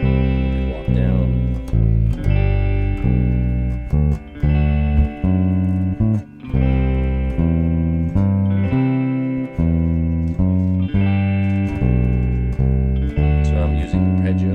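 A bass guitar plays a steady bass line mixing scale tones and arpeggios, with close, loud notes changing in an even rhythm that dips briefly between phrases.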